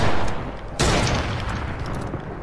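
Two loud pump shotgun blasts in the Fortnite Battle Royale video game, one at the very start and a second sharp crack under a second in, each trailing a noisy decay.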